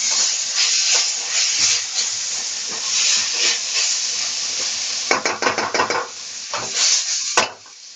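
Cabbage and other vegetables frying for Hakka noodles in a hot pan, a steady close hiss and sizzle with scraping stirs, rapid clattering tosses near the end, then an abrupt stop.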